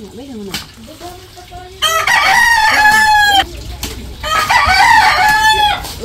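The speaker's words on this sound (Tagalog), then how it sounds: "ito na po yung manok na kakatayin" A native Filipino rooster being readied for cooking, crowing loudly and close with long strained calls, with clucks and low grunting sounds between the crows, outdoors on a farm.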